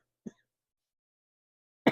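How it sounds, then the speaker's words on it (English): A person with a cold coughs indoors: a brief, soft throat-clearing burst, then after a silent gap a louder, harsher cough cut off at the end. "now I'm going to hunker down. Now it's going to be, excuse me, I'm going to cough."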